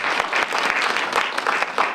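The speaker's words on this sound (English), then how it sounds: "everyone can give her a round of applause" A lecture audience breaks into a round of applause for a guest speaker, steady dense clapping that fills the room for the whole stretch with no voices over it.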